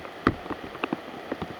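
Rain falling on a disc golf course, heard as soft steady patter with scattered louder drops tapping at irregular intervals, faint and close, with no talk.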